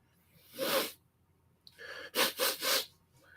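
Several quick nasal sniffs, one short burst followed by a cluster of three close together, near and fairly loud against a quiet background.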